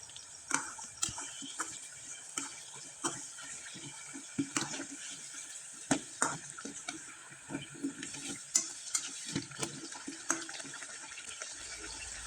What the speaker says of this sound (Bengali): পিঠাগুলো একবারে মুচমুচে করে ভেজে নিলাম